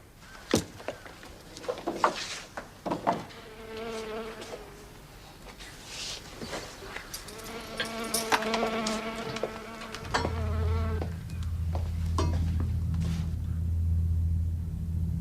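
Flies buzzing around food, a wavering insect drone that rises and falls close by, with faint knocks early on and a low rumbling hum coming in toward the end.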